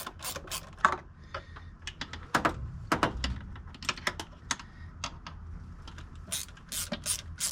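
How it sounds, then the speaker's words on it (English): A hand ratchet clicks in quick irregular bursts while tightening intake manifold bolts on a Chevy LS1 engine during a truck swap, with sharp close ratcheting taps and brief pauses between strokes, no talking. "tighten all those bolts, then put the fuel rail on"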